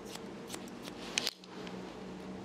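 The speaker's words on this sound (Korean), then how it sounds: "무거운 부분만 180도 정도로 들어서 그냥 잘라줍니다." Scissors snip through the heavy top section of hair lifted straight up at about 180 degrees during a layered leaf cut and wolf cut, a few quiet close snips with one sharper cut near the end, no talking.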